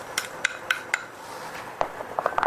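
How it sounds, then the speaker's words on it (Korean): Shiitake mushrooms and meat are stir-fried in sesame oil in a pot, with a utensil clinking and scraping against the pot in quick, irregular taps over a faint background, no talking. "표고 버섯과 고기를 넣고 볶아요"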